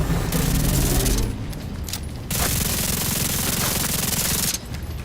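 A mortar strike in The Division 2 on Master difficulty, a loud, broad blast opening the clip, then a sustained roar of debris and rumbling, with a second surge of crackling noise partway through.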